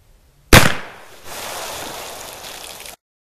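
A .44 Magnum round strikes water-filled jugs outdoors in cold weather: one sharp, loud crack at impact, then a couple of seconds of steady spraying and splashing water that fades out.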